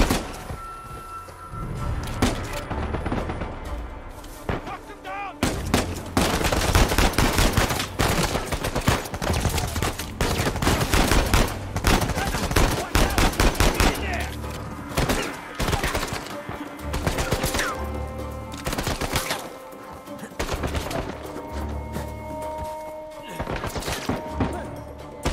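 Gunshots from the video game Uncharted crack in dense, loud exchanges, a mix of rapid bursts and single shots, with thuds and a little talk underneath.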